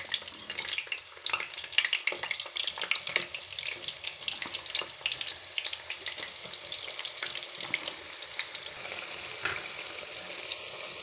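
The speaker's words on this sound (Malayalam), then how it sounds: "ചിപ്സ് വറുത്തുകൊണ്ടിരിക്കുകയാണേ" Plantain chips frying in hot oil, a steady crackling sizzle with bright bubbling bursts and occasional stirring clinks, close and continuous without talk.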